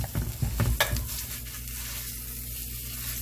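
Chopped spicy pork sausage sizzles steadily in a pan as a breakfast pizza topping, with a few stirring knocks at the start before a continuous sizzle.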